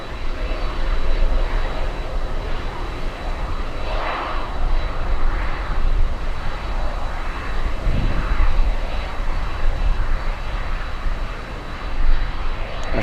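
A cargo plane on a short flight from Cuba lands at Miami International Airport in gusty winds, lining up for runway 9. Its engines roar steadily and loudly throughout, with swells as it passes, and no one speaks.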